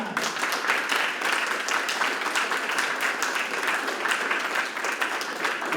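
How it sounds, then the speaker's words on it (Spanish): A book-launch audience applauds the author of a short-story collection with steady, dense clapping that fills the room, close and sustained throughout without pause. "un fuerte aplauso para Joe Chimán."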